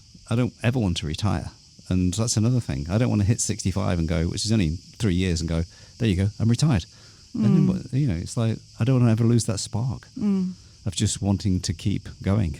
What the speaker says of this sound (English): Can you hear the cicadas in the background?